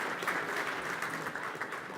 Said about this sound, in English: can we get a round of applause for that talk, please?